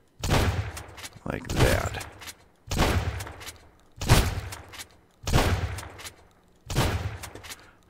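Rapid bursts from a fast-firing gun in Sunkenland, six loud close volleys in a regular rhythm each lasting about a second with short gaps, someone speaking briefly between shots.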